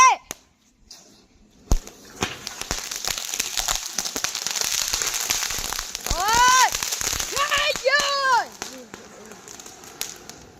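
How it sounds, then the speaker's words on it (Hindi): A Diwali firecracker, lit from a sparkler, crackles and fizzes with sharp pops, then lets out several rising whistling shrieks up close, while voices are heard around it. "हम इस तारामंडल के द्वारा इस अनोखे पटाखे को जलाएंगे"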